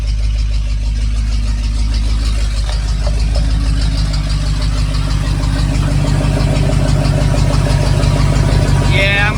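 A car engine runs after an engine swap, with a loud, steady, deep idle and a constant rumble throughout. A faint belt squeal may sit underneath, and a voice can be heard over it.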